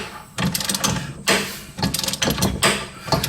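A press kit's threaded rod is turned to push out a suspension bushing, giving bursts of ratcheting mechanical clicks and grinding with short pauses between turns, close and moderately loud.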